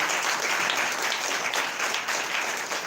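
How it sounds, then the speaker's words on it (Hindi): Loud, steady applause from a church congregation at a Sunday meeting, dense clapping filling the room for a few seconds without pause. "एक बार जोरदार ताली बजाकर धन्यवाद दो"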